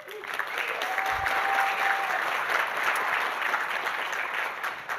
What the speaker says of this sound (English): please give me some applause